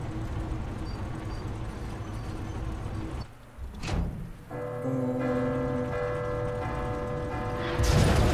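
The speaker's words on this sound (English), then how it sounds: "Breaks the bell." A bell is smashed in the Resident Evil 2 video game: a sharp impact cuts through steady rain-like noise, followed by sustained, layered metallic ringing tones that hold to the end.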